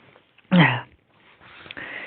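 A single sharp cough bursts out close up, followed by quieter breathy throat sounds.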